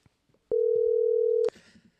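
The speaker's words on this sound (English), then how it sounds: "Answer this phone, boy." A telephone tone while placing a call, one steady electronic beep lasting about a second, loud and clean, with faint room noise before and after.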